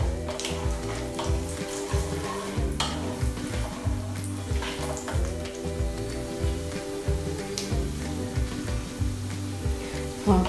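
Ingredients frying in a pan while poha is prepared, a soft sizzle with occasional clinks of a spoon against the pan, under a rhythmic low tonal background, no speech.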